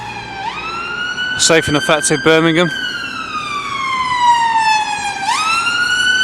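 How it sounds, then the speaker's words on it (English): An ambulance siren wailing along a Birmingham city street, rising and falling tones sweeping up and down as it passes, with a burst of rapid yelp pulses midway and someone talking over it. "And this is the first ambulance of the day."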